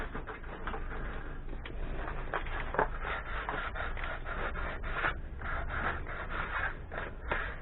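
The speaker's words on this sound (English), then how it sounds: "Sand it down and it's still coming off." Hand sanding scrubs old paint off the dashboard of a 1963 Hillman Husky under restoration, a steady rapid rasping of back-and-forth strokes, close and fairly quiet.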